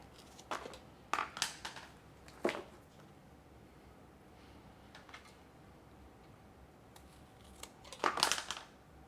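Several crisp snips cut through a big philodendron leaf stem with sharp scissors: a quick cluster of cuts, a single cut, then a last pair of close, loud snips after a quiet pause.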